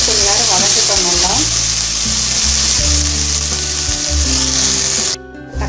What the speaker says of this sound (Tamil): தக்காளி கொஞ்சம் நேரம் வதக்கிட்டோம்